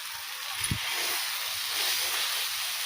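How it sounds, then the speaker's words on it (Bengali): Maggi noodles going into a pan of fried onions, a loud steady hissing sizzle close by, with a soft knock early on and no speech. "হাই দেখুন আমি ম্যাগিটা ডাল্লা দিচ্ছি"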